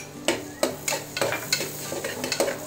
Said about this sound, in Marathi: ह्या सगळ्या गोष्टी आपल्याला थोड्याशा बटरमध्ये परतवून घ्यायचं आहे।